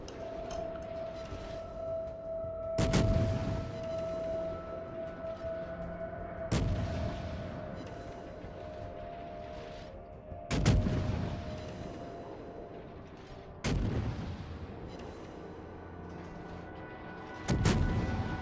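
Naval guns in a warship video game fire salvo after salvo at an enemy ship: five loud, sharp booms spaced a few seconds apart, each with a rumbling decay, over steady engine hum and a faint siren-like tone.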